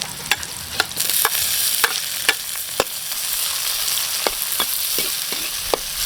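Ginger, garlic, onion and tomatoes stir-fried with beef in a pan, a steady close sizzle broken by irregular sharp scraping clicks of the spatula stirring, no talking.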